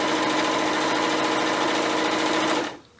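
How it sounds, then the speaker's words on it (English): A sewing machine runs fast and steadily, stitching stretched elastic onto fabric with a dense mechanical whir and rapid rhythmic needle clatter, loud and close, then stopping abruptly near the end. "continue sewing it down while that elastic is stretched"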